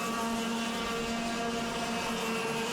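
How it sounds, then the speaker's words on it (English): 100cc Yamaha junior racing kart engines buzzing at a national sprint championship final, a continuous high droning whine heard from a distance, steady and unbroken. "Bit of adjustment there on the carburetor for Penrose, so he'll be slowly winding that fuel into the kart"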